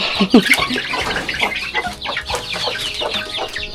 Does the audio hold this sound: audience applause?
no